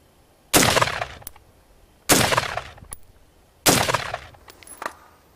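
Three loud, sharp gunshots crack at roughly one-and-a-half-second intervals during target shooting, each with a short fading echo tail.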